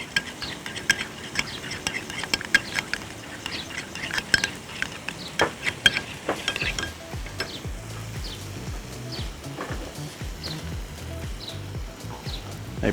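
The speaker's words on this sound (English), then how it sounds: "Give that a mix." Regular mayo and A1 sauce being stirred together for a steak sandwich spread, a close, steady scraping and clicking of utensil against a bowl in quick repeated strokes, with no speech over it.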